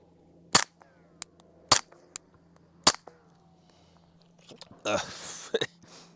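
Suppressed handgun shots firing 147 grain ammunition: four sharp, fairly quiet cracks spaced about a second apart, followed by lighter clanks and a short burst of noisy handling near the end.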